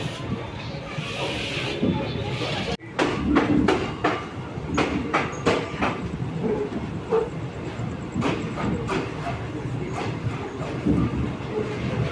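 A night express passenger train rolls along the rails with a steady rumble and rhythmic clickety-clack, close and continuous, a brief dip in noise early on.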